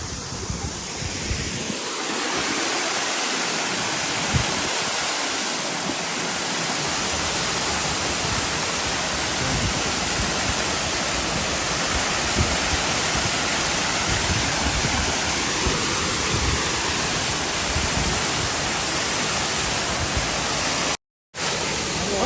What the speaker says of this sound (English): There's a nice mist from the waterfall.